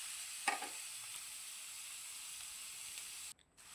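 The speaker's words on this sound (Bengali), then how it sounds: "আবারও সেই তেলের মধ্যে আরও বেশ কয়টা মাছ দিয়ে দিচ্ছি। দিয়ে একইভাবে আমি মাছগুলোকেও ভেজে নেব।" Pieces of fish fry in oil with a faint, even hiss and a soft spatter near the start, the sizzle holding steady before briefly dropping out at the end.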